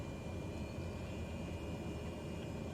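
A light aircraft engine in Microsoft Flight Simulator 2020 holds a steady, broad drone at constant level, heard from the cockpit while the plane, flaps down and cleared for takeoff, waits on the runway.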